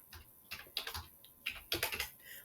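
Fast clusters of computer keyboard keystrokes as a web address is typed, crisp clicking bursts close by with short pauses between groups.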